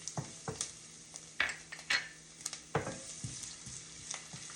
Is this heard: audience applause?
no